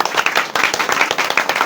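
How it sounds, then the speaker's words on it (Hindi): A classroom of students claps together, a quick run of dense, close, steady applause over about two seconds. "इनके लिए ताली बजाओ भैया।"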